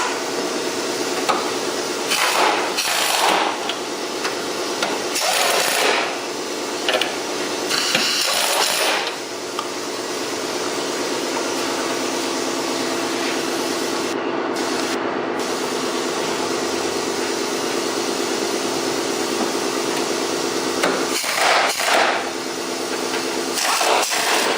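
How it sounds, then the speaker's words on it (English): Air impact tools tightening suspension bolts on a 2013 Genesis Coupe during a track suspension upgrade, heard as loud, sustained whirring and rattling bursts in a garage with a constant background hum. "Once you hand tighten, then you can go ahead and tighten with the air tools."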